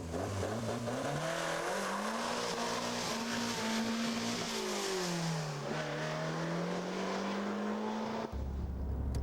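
An EVO200 kit car with a Cosworth engine tuned to 360 bhp and a Renault transaxle drives steadily at low revs, its engine drone rising and falling smoothly and close, with no one talking.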